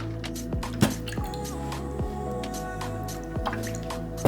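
Water poured from a container into a bowl of red vinegar dipping sauce for banh bot chien, with close drips and splashes and a few small clinks, alone without talk.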